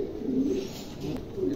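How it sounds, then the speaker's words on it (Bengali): Several pigeons coo softly nearby in a short, low, continuous burble. "চমৎকার কবুতরগুলো, প্রত্যেকটা কবুতর মাশাআল্লাহ দেখার মতন"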